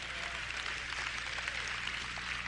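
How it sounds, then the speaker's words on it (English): A church congregation claps during a lively service, a faint, continuous patter of hands over a low hum. "Come on, clap your hands."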